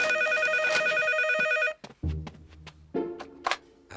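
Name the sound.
telephone ringing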